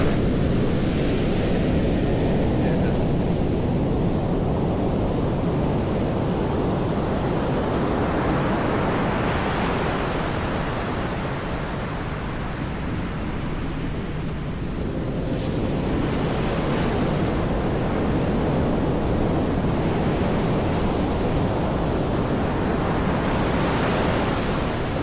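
Big ocean waves surge and break continuously at James Town Beach in Accra, Ghana, a loud, broadband roar with wind buffeting the microphone, easing slightly mid-way before swelling again.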